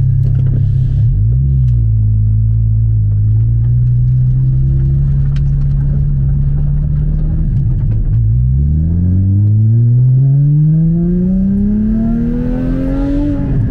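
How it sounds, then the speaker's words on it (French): A Porsche Cayman GT4 981 with a very long exhaust line idles with a deep, muffled drone, then revs up twice, its pitch climbing steadily on the second rev, loud and close, with no talking. "la ligne d'échappement étant très longue, on se retrouve quand même avec un son assez sourd"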